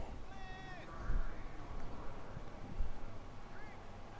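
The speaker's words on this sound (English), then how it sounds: "My cat seems to think it was starving, sorry." A house cat meows in a short rising-falling call near the start, then gives a brief second mew toward the end, both moderately close over a steady background hum.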